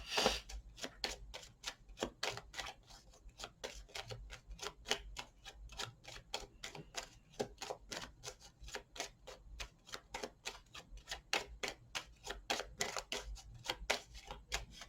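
Tarot cards are shuffled and cut in a quick run of crisp, regular taps and riffles, close and fairly quiet, continuing steadily with no talk.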